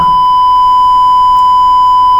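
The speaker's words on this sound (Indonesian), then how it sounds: "ya otomatis si buzzer akan berbunyi" An electronic buzzer wired to a distance sensor sounds one sustained, steady high tone, clear and alone for about two seconds.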